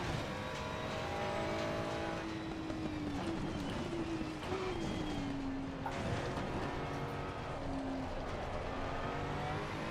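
Race car engines in Assetto Corsa Competizione at Oulton Park in the dark, a loud continuous high whine holding and shifting pitch as cars run close in a pack, with no breaks.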